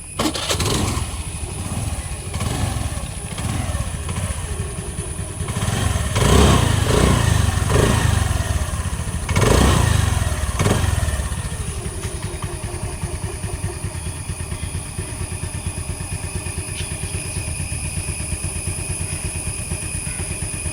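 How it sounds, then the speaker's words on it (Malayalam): A vehicle engine cranks and starts, revs unevenly with a few louder surges, then settles into a steady, close idle that runs on alone. "ഇതിൻ്റെ എഞ്ചിൻ ഭാഗമാണ് എടുത്ത് കേട്ടോ നിങ്ങൾ സൗണ്ട് കേൾക്കും"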